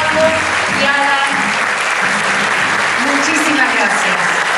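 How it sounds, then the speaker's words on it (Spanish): Loud audience applause at a gala concert by an instrumental and vocal ensemble, sustained clapping throughout with voices and cheers mixed in. "Fuerte el aplauso para esta joven adolescente que emprende una nueva etapa"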